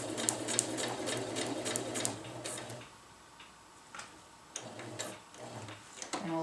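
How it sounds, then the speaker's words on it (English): A sewing machine stitches a winter tarp, running in steady rapid bursts of needle chatter with a pause in the middle before resuming, close and clear with no talk. "And now we'll sew back up to our original starting point."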